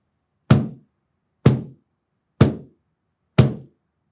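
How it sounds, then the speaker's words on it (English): Four deep, full-handed bass thumps land on the face of a cajon, evenly spaced about a second apart. Each is a close, resonant hit that decays quickly, with silence between the strokes. "Let's start with the bass sound. You want to hit the drum with the full hand about 2/3 of the way up the cajon,"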